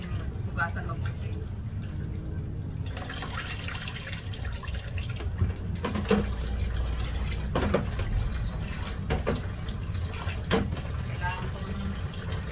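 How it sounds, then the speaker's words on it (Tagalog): Rice is rinsed under a running kitchen tap, with steady splashing water and the occasional swish and clatter of grains being rubbed by hand. The sound is close and moderate in level, with a faint voice now and then. "Kaya kailangan natin hugasan mabuti."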